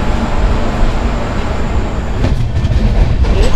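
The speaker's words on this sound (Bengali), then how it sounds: "ট্রেন ছেড়ে দিয়েছে" The Sealdah–Balurghat express pulls away and runs on, producing a loud, steady rolling rumble with rail clatter picking up toward the end, heard from inside a coach.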